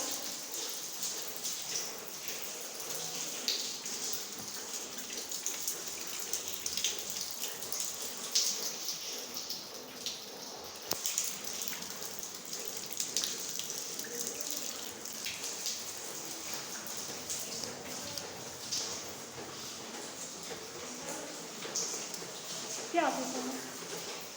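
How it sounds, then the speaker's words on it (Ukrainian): Rainwater splashes and trickles steadily down an apartment building stairwell from the fifth floor to the first, a continuous indoor flow spilling over steps, with a faint voice now and then. "Вода спускається з п'ятого поверху до першого поверху."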